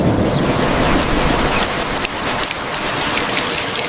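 Steady morning rain pours down on surfaces, a dense continuous hiss close by with no voices.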